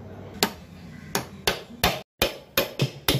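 A hammer strikes a metal punch repeatedly while removing a Lambretta scooter layshaft, sharp ringing hits arriving in an irregular rhythm, close and fairly loud, with brief pauses between blows.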